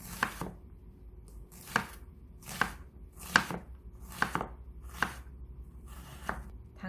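A knife chops an onion finely on a cutting board for fried rice with tofu, eight crisp, evenly spaced thwacks close by, with quiet pauses between strokes.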